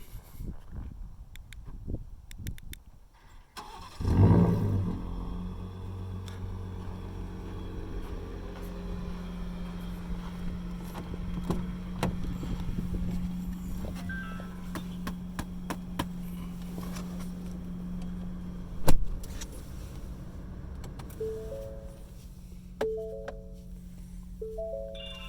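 A 2022 Ford F-150 Raptor Gen 3 with a warm engine cranks and fires up with a sharp burst, then settles into a steady low idle hum, heard alone at close range.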